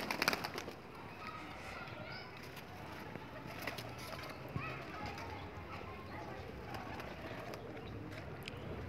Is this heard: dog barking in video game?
no